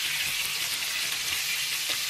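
Potatoes frying together with meat in a pan give off a steady, bright sizzle that stays even and close, with no voices over it.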